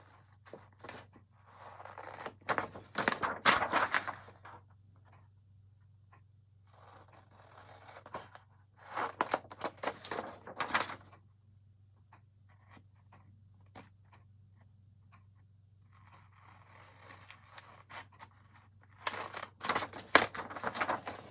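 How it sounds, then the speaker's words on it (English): Scissors snip through scrapbook paper while a craft explosion box is being assembled, with three separate bursts of quick, crisp cutting strokes separated by long quiet gaps, close and fairly faint. "So first I'm going to cut this out."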